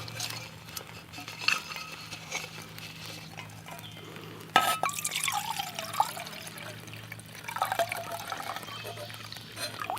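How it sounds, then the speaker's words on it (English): Water poured into a small cookset pot set over an Esbit solid fuel stove, a trickling, splashing pour building after a light metallic clink, with faint clatter of the metal cookware around it. "go ahead and put a little water in the pot."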